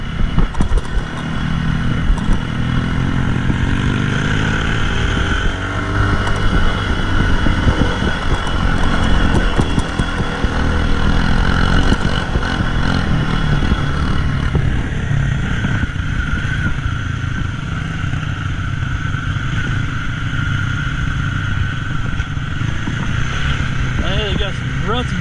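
An off-road motorcycle engine drones loud and steady while riding a rutted trail, the pitch rising and falling slightly with throttle over a long continuous stretch, with wind buffeting throughout.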